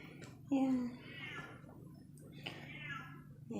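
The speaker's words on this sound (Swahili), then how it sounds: "si mind kona paka hapa inalia." A house cat meows indoors, one clear drawn-out meow followed by fainter cries, close by, with someone talking quietly in the background.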